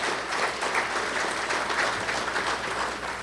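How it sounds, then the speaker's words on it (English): A crowd at a gala event applauds steadily, with dense, even clapping that holds throughout at a moderate distance. "Could we give him a special round of applause?"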